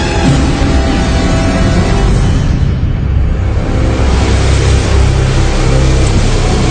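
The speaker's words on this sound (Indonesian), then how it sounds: "hanya dengungan suara mobil saja yang terdengar di telingaku" A car engine hums steadily and loudly throughout, a constant low drone of driving at night with no voices, only slight swells in the road noise.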